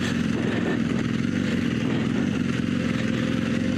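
An adventure motorcycle on Michelin Anakee Adventure tires runs in first gear on soft, recently rained-on ground, its engine a steady, close mid-pitched drone with little change in loudness while slowing.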